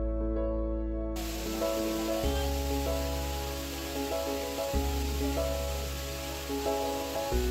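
A rain-fed waterfall in the Purulia hills tumbles down many rocky steps as a continuous broadband rush, starting after a brief gap, with music playing over it.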